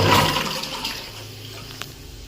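Water pours into the tub of a Hotstar washing machine, a steady rushing fill that is loudest at the start and then settles into a softer, continuous flow with no talking.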